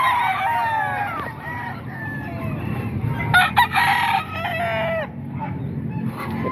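Several chickens cluck busily while a rooster crows loudly in the middle, with other birds chirping in a lively farmyard background.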